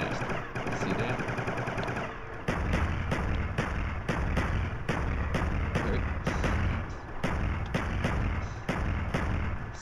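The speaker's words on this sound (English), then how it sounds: "And now I'm shooting faster." Rapid automatic gunfire from a weapon boosted by the Double Tap perk in a Call of Duty–style zombies mod, with dense bursts of shots in quick succession that start and stop repeatedly and play loud and close.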